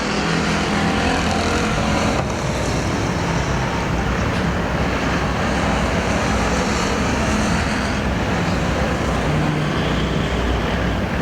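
American Factory Stock race cars at Perris Auto Speedway, a dense, loud, continuous engine roar with cars running together on the oval, unbroken for the whole stretch.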